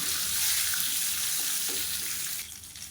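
Cashews and mustard seeds fry in hot oil, giving a dense, steady sizzling hiss close by that drops noticeably in the last half second.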